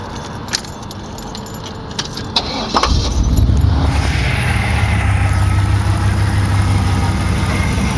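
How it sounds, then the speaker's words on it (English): Keys jangle briefly before a 1988 Chevrolet Monte Carlo SS with a freshly rebuilt 350 LT1 V8 starts up close by and settles into a smooth, steady, low-pitched idle that continues evenly to the end, with no talking. "You can see the car runs quiet"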